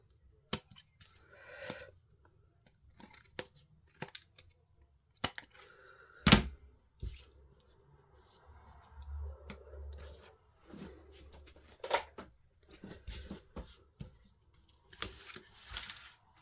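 Scissors trim excess paper from a stamped card so it fits an envelope, giving scattered crisp snips and a louder sharp cut midway, with quiet handling rustle between.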